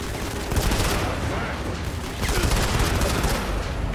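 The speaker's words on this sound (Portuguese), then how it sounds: "eu tô atirando nos bagulhos sem querer e tá explodindo tudo" Gunfire and explosions from Modern Combat 5 crackle in dense, rapid bursts, loud and close, as shots trigger blasts that go off one after another through the clip.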